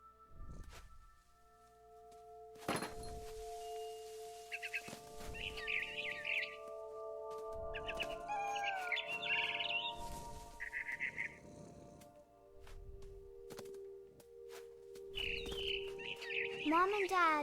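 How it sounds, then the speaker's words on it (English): A barn swallow chirping in the video game What Remains of Edith Finch: short, bright bursts of twittering calls come and go in clusters over soft music tones and low thuds. "Then I heard chirping outside my window. It was a barn swallow going back to her nest."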